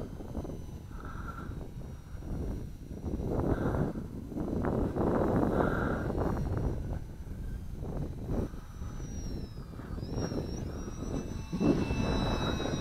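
An XK DHC-2 A600 RC airplane flies at full throttle over an open field, its small electric motor giving a steady buzzing whine that holds at a moderate distance against wind rumble on the microphone.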